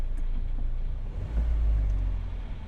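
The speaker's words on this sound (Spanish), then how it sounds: "Se acelera el vehículo" Car engine in a technical school workshop during an automotive scanner test, idling with a steady low rumble that swells briefly as the throttle is opened, then settles back; close and alone, with no talk.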